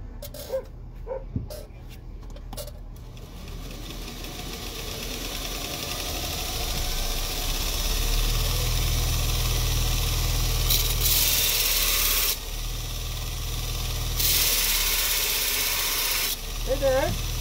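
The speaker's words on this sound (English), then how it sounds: "All right, I'm gonna do some grinding." A bench grinder sharpens blades at an outdoor farmers market, giving two bursts of harsh, hissing grinding over a steady motor hum, with market background noise and a dog barking.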